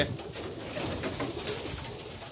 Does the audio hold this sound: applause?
no